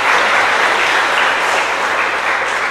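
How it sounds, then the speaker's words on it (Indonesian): Sustained audience applause at a Catholic talk in Purwakarta fills the room steadily, loud and dense with no break, the clapping of many hands blending into an even wash. "tepuk tangan ya"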